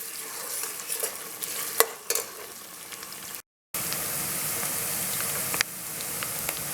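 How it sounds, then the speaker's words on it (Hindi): Onions frying in oil in a pot: a soft, steady sizzle with a few sharp clinks and scrapes of stirring, fairly quiet, with a brief dropout partway through. "और प्याज को हम इस तरह से फ्राई कर लेंगे।"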